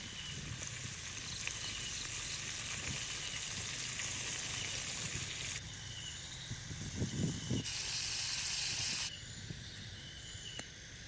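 A whole chicken fries alongside potatoes in a pan of hot fat, giving a loud, close, continuous sizzle and hiss that shifts abruptly in intensity a few times, with occasional spits and pops and no talking.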